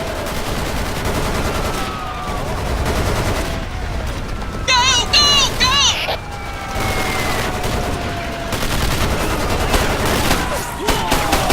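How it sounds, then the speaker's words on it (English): Rapid machine gun bursts and scattered explosions fill a war video game battle, loud and continuous, with a brief high electronic warble in the middle and no one talking over it. "Take out those machine gun nests."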